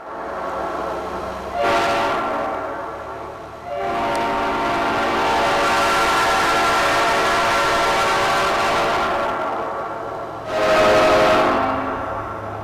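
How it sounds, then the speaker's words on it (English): A rare late-1940s air horn mounted on a Reading and Northern diesel blasts loud and close in three long sounds, a short opening note, a sustained middle blast of several seconds, and a final short burst, with no voices. "In 2008, Reading and Northern allowed Ed to mount this horn on one of its diesels"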